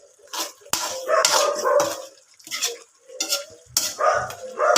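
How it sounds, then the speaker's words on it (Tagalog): A family dog barks repeatedly outdoors in bursts spread across the whole stretch, fairly close and loud, with a faint sizzle of food frying on a fire indoors underneath. "Yan ang ingay ng aso namin guys sa labas."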